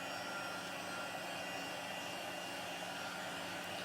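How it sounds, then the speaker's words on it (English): A heat tool blows a steady, even whooshing roar to dry ink before heat embossing, running continuously and close with no voices. "I'm just going to hit it with the heat tool really quickly"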